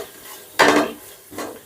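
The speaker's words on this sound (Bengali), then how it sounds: "এবারে গ্যাসের আঁচটা লোতে রেখে ফোড়নটা হালকা একটু নাড়াচাড়া করে নিচ্ছি।" Whole spices, cumin, dried red chillies and bay leaves tempering in oil and ghee over low flame for chicken pulao, stirred with two short scraping spoon strokes over a soft sizzle.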